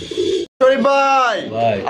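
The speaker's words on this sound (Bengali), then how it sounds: "একদম দেখার মতো ভাই এই ডাকের কবুতর যারা খোঁজেন" Pigeons kept for sale at a wholesale pigeon market coo in a throaty, rising and falling call, close and fairly loud, following a brief break in the sound.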